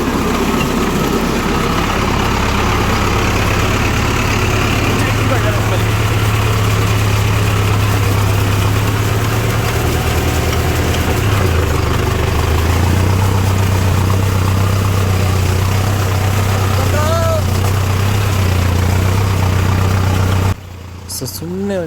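A tractor engine runs steadily and loudly at close range, a constant low idling drone with little variation, before cutting off abruptly near the end.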